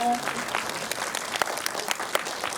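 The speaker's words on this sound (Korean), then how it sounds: "큰 박수 부탁드립니다" An audience in a cinema claps at a film screening and guest visit during the Busan International Film Festival, a close, dense and steady burst of applause from a crowd.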